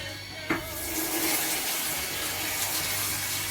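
Warm water poured into a cooking pot for boiling potatoes, a steady splashing gush that starts with a sharp splash and runs on evenly, close and fairly loud, with no talking.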